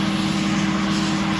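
A tractor engine runs at a steady drone during a wheat harvest, loud and close, a continuous low hum with broadband mechanical noise and no voices.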